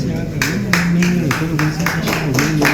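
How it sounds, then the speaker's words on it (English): At a national domestic and eco-tourism conference in Nigeria, steady claps land roughly twice a second over a continuous voice, moderately loud and fairly close. "Please a round of applause"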